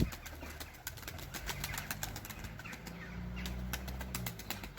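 Young pigeons in training burst into flight with a quick flurry of wing flaps, close by over outdoor noise, with a few faint bird calls mixed in.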